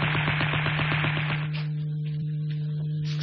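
Machine-gun fire in a drama, a rapid, loud, evenly spaced burst of shots for about a second and a half over a steady hum, then scattered fainter cracks and bangs.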